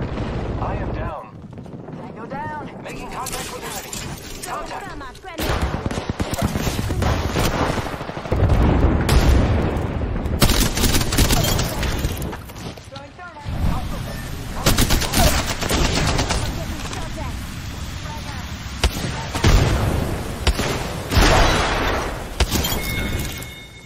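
Rapid automatic gunfire and explosions from an Apex Legends match run almost continuously in loud, dense bursts, with game voice lines and a player talking in between.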